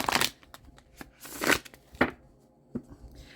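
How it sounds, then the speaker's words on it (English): A deck of cards is shuffled by hand in quiet bursts of riffling and tapping, several short clattery flurries with pauses between, close and fairly soft. "I feel like I'm supposed to give this deck one more shuffle"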